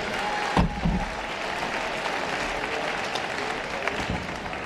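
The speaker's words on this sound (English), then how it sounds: "Give them a round of applause." A crowd applauds at a taekwondo Grand Prix event in London, sustained clapping across the arena with a few louder claps and some faint crowd noise.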